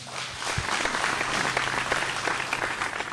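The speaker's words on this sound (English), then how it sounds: "Folks, another round of applause," Audience applause at a televised singing competition show, a dense steady roar of clapping from a large crowd lasting about three seconds with no speech over it.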